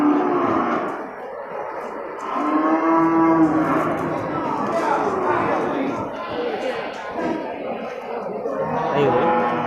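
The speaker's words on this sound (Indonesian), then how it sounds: "Ini satu sapi limosin jumbo nih kan" A jumbo black Limousin cow at an animal market moos in long, loud, close calls, with people talking and crowd chatter around it.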